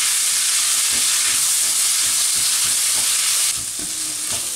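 Garlic, fresh ginger and onion frying with prawns in a pan give a loud, steady sizzle, and a stirring utensil taps and scrapes now and then. The hiss eases slightly near the end.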